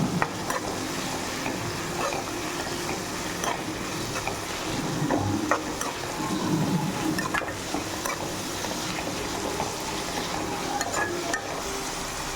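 Tomatoes are sautéed without salt in a pan for egg rice, a continuous bright sizzle with repeated scraping and clinks of a spatula stirring, close and steady throughout.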